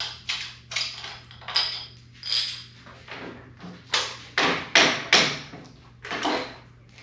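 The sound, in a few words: removing two bolts from a 1986 Harley FXRS front end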